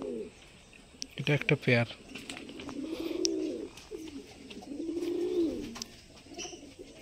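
A male fancy pigeon in a village breeding loft in Namkhana, South 24 Parganas, gives several low, rolling coos, close by and moderately loud. Someone speaks briefly just before the cooing begins.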